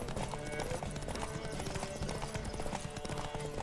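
Horse hooves gallop in The Witcher 3, a rapid, steady clip-clop of hoofbeats over a dense game soundscape, faint and continuous throughout.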